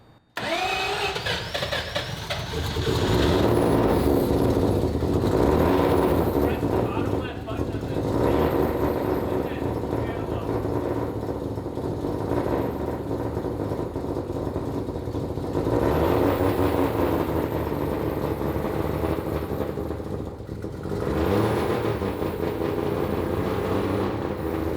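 A 3-rotor Mazda RX-7 engine cranks and fires, then holds a loud, rough, steady idle close by, its droning roar continuing unbroken for the rest of the stretch.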